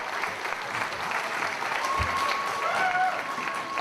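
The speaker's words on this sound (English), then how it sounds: "Ian Johnson, round of applause." Audience applause fills a stand-up comedy show, a steady, dense wash of clapping from the crowd that holds at an even level throughout.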